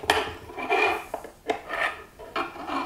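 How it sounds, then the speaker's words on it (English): A wrench turns a nut on an Orion Intelliscope telescope base, giving several short metallic rasping scrapes in uneven bursts, close and fairly clear with no talk. "relevant wrench and I'm just going to start tightening this nut"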